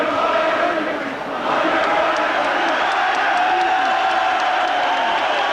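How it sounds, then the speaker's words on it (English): Irish crowd at the Chris Eubank vs Steve Collins boxing fight: a large, loud arena crowd cheering and singing in a continuous roar, with a ringside commentator talking over it. "Some of the crowd are singing "On Your Bike" to Chris Eubank."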